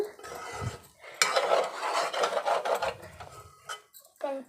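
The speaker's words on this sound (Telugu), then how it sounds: "ఇప్పుడైతే అన్నంకి మంచి కలుపుకోవడం అయిపోయింది" Cooked rice being stirred and mixed with spices for pulihora, a scraping, rustling sound of a spoon working through rice in a vessel, steady and close, with occasional clinks of metal.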